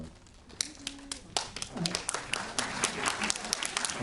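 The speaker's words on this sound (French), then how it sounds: "Je ne vous empêche pas d'applaudir, mais si vous ne vous sentez pas non plus obligé d'applaudir à chaque fois" An audience at a film festival opening ceremony applauds, scattered claps growing into a denser patter over a few seconds, with voices talking beneath.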